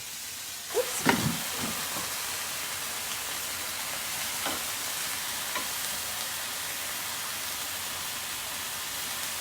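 Onions sizzle in a skillet with browned bits, a steady broadband hiss of frying throughout, with a few brief clatters of stirring near the start and no talk.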